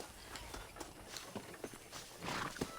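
Horse hooves clip-clop in Red Dead Redemption, a quick irregular run of soft, fairly faint hoofbeats over steady game ambience, with no talk.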